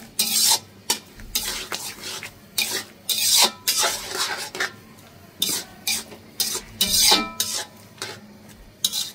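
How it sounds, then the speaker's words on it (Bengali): A spatula stirs and scrapes shrimp bhuna in a pan over a low sizzle of frying. The close, rhythmic scraping strokes repeat steadily for several seconds with no talking. "এই যে আমার চিংড়ি মাছ ভুনাটা"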